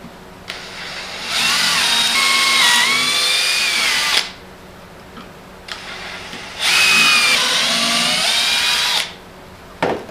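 A power drill whirs loudly in two long bursts into a workbench, each a few seconds, its pitch wavering under load, with quiet pauses between.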